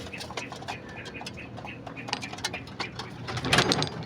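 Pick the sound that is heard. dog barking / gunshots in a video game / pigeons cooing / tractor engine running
pigeons cooing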